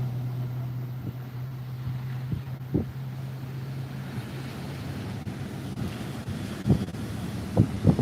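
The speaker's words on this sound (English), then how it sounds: "And these waves are getting bigger." Ocean waves breaking at sunset with wind buffeting the microphone, a steady low rumble of surf with a few louder wave crashes toward the end, and no voices.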